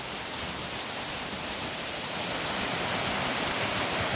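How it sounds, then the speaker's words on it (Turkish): Gelintülü Waterfall near Ayder Plateau in Rize, Turkey roars in a steady, dense rush of water over carved rocks, loud and close, with no pauses or voices. "Ve sizi şelalenin sesiyle baş başa bırakıyorum."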